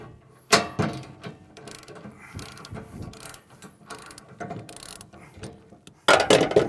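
A hand ratchet loosens bolts on a companion base, giving sharp close clicking bursts in short irregular strokes with quieter pauses between, and a louder cluster of ratchet clicks at the end.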